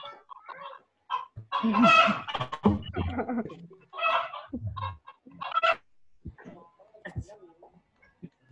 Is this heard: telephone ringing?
no